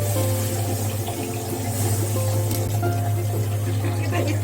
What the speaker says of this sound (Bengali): এবার এতে অল্প একটু পানি দিয়ে দিব